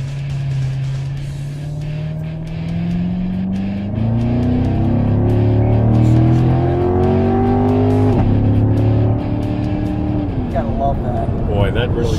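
A car in sport mode accelerates hard, its engine note climbing steadily through the revs before dropping at each upshift, loud and close, repeating through several gears.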